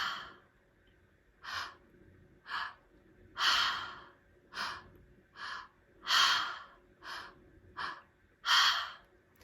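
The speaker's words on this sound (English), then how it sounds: "and then we exhale." Steady breathwork breathing, a series of about eight close, airy breaths at an even, fairly quick cadence, each a soft rushing swell separated by brief quiet pauses, with no talking.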